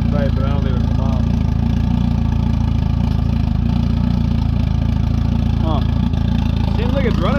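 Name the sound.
Jetta engine running with a newly installed Haltech Elite 1500 ECU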